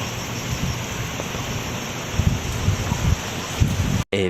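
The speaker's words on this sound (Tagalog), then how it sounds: "grabe talaga ang lakas ng hangin mga farmers" Strong gusting wind roars against the microphone, shaking eggplant plants on a farm with rustling bursts, buffeting unevenly and briefly dropping out near the end.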